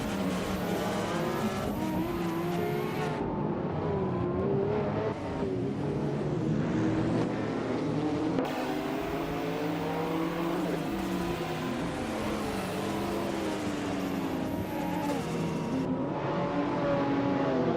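Several race cars roar continuously through a racing video game, engines revving and shifting with tires squealing into a turn, a dense unbroken pack of engine noise.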